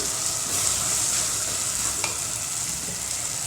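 Onion and tomato sauté with sambar powder in a pan for papad curry, a steady close sizzle with light stirring scrapes and a small clink partway through.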